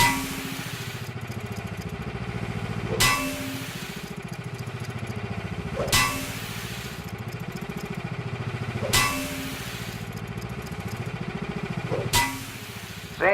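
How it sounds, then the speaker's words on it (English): In Guns of Icarus Online, a spanner wrench repairs a ship part, giving four evenly spaced sharp metallic strikes about three seconds apart over a constant droning engine hum. "Do it once more with the spanner wrench."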